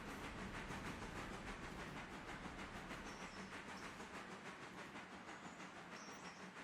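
A train in the Railroader video game rolls through a switch with a continuous rumble and rhythmic clicking of wheels, fairly faint and steady throughout.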